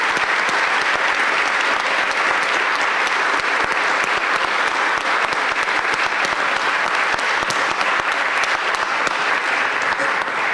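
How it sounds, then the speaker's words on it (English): A conference audience gives loud, sustained applause after a solar energy panel discussion, dense clapping filling the room at an even level from start to finish. "let's give the panel a great round of applause here."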